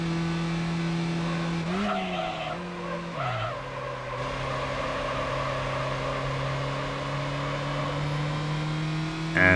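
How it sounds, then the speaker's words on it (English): A race car in Gran Turismo 4 Prologue drives a lap in the game's school mode, its engine a steady, droning hum that briefly dips and rises through a couple of gear changes before holding an even pitch. "now we just have another lap to do here"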